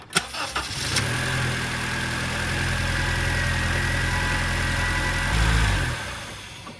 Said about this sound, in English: I'm gonna start the engine and pump the brakes with the engine on